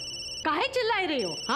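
A telephone rings in short electronic bursts, briefly interrupted by someone speaking over it, then the ringing resumes.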